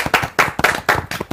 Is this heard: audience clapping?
yes